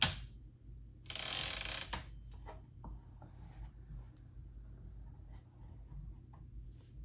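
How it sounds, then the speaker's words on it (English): A 1923 Remington Portable No. 2 typewriter's carriage release and platen advance, a short rasping slide of the carriage followed by a series of small mechanical clicks and ratchet ticks, close and quiet in a still room. "This is the carriage release. And then the platen advances."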